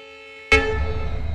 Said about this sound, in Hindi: बहुत बढ़िया लॉन्ग हॉर्न गाइस यहाँ पे